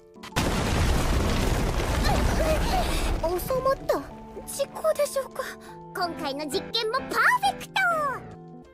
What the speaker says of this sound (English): suddenly the place exploded